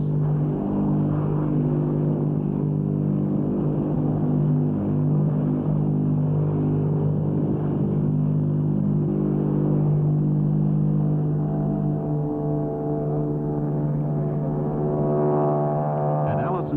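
Convair XF2Y Sea Dart's T40 turboprop engine of 5,500 estimated shaft horsepower driving contra-rotating propellers, a steady loud droning rumble with tonal hum throughout, with narration over it.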